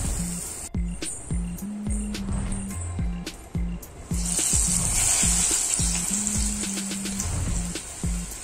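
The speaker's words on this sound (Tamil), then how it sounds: "கடுகு, உளுந்த பருப்பு லைட்டா சாட் பண்ணா போதும்." Mustard seeds and urad dal crackle and sizzle in hot oil in a pan for a Tamil lunch dish, a steady bright hiss with scattered pops, close and continuous, while soft tonal clinks and beeps sit underneath.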